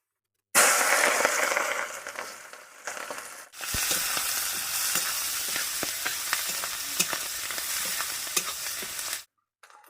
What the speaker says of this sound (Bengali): তো আলু ভাজা তেলে আমি দিয়ে দিচ্ছি দুটো তেজপাতা, 1 চামচ 5 ফোড়ন, আর দিয়ে দিচ্ছি দেখুন কাঁচা লঙ্কা আর পেঁয়াজ কুচি